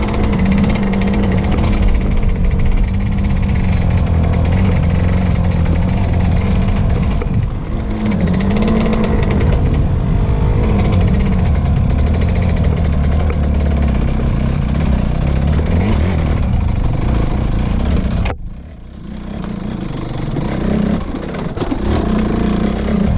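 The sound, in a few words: dirt bike engine braking in first gear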